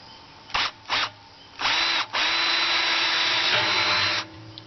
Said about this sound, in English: So now I'm going to drill the holes for that.